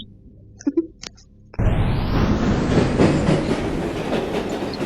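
A metro train in a video game rushes in suddenly after a few quiet clicks, then a loud, steady rumbling roar carries on to the end.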